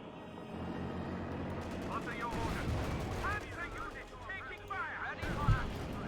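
Artillery bombardment in a Company of Heroes 2 battle, a steady rumble of distant shell impacts and gunfire under the din of the fight. Someone talks over it.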